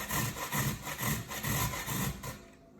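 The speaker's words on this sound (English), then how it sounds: "I'm going to grate some carrot strands and my knuckle" Carrot is grated into strands for chicken egg rolls, a close, rhythmic rasping of about five back-and-forth strokes, each a raspy burst, before the sound stops near the end.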